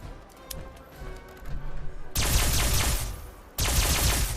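Rapid-fire plasma-style energy gun from Fallout 4, with quiet clicks and handling noises leading into two loud, dense bursts of fast automatic fire, the second starting abruptly after a brief dip.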